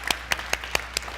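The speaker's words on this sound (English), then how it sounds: "Everybody, I want you to applaud this effort." Audience applauding during a service: six sharp, evenly spaced claps about a fifth of a second apart, crisp and close against a quiet room.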